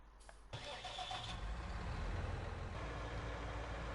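A tractor mower's engine cranks and catches in Farming Simulator 19, a brief starter whirr followed by a low, steady idle rumble that settles in and keeps running.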